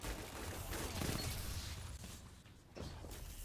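Fusion rifle fire in Destiny, likely a Four Bolt Fusion loadout, heard as quiet bursts and mechanical clatter that fade out briefly before a final shot near the end, with no talk.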